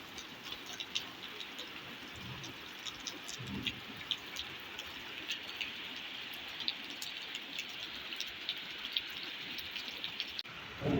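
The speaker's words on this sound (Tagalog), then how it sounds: "Lakas ng ulan." Heavy rain pours steadily, a dense hiss with scattered drops ticking and splattering nearby.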